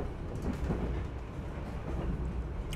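Inside a moving Brawijaya Executive passenger train, a steady low rumble and rolling noise fills the carriage, with faint rattles on top and no voices.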